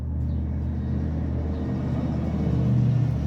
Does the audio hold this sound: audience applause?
no